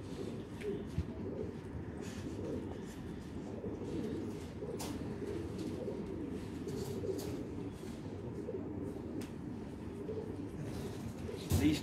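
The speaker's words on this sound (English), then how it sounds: "they're also very nice pigeons" Jacobin pigeons cooing at a club pigeon show, low steady cooing throughout amid hall background noise and faint talk.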